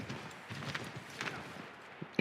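Horse hooves clip-clop in Assassin's Creed III, a quiet run of soft, uneven hoofbeats plodding alone at a distance with no talk over them.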